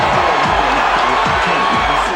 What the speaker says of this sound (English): as this crowd rises to its feet and looks for the first round knockout